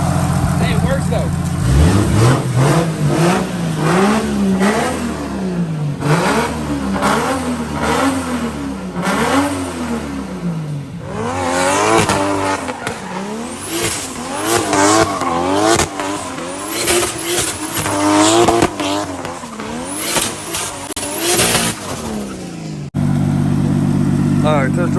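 A small hatchback with an oversized custom radiator is driven hard on a test run, its engine revving up and down repeatedly with loud, close accelerations, gear changes and occasional sputtering, while people talk over it.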